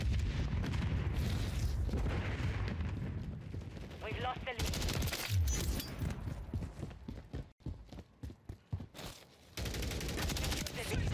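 Rapid gunfire from Call of Duty: Modern Warfare 3 multiplayer, dense bursts of shots rattling through much of the stretch with brief gaps, loud and close, with game effects and a voice faintly mixed under it.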